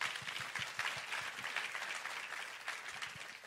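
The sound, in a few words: audience applause at an awards show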